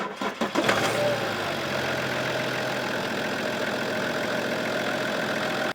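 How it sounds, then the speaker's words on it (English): A car engine cranks briefly and catches after an oil change, then settles into a steady, fairly loud idle that runs on evenly with no voices. "We want to start the engine for like 10, 15 seconds, maybe 30 seconds, just to fill the oil filter"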